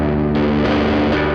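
An electric guitar played through a Peavey Studio Pro 50 1x12 combo amp with the gain turned up, giving a thick, distorted sustained chord that shifts a couple of times, loud and close with no talking.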